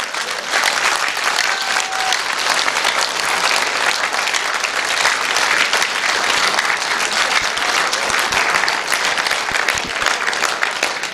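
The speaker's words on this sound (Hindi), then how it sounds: "ये आवाज उन लोगों की आ रही तालियों की जिनको चाहिए।" Sustained, loud audience applause fills a seminar hall, dense and continuous clapping from a large crowd with no pause throughout.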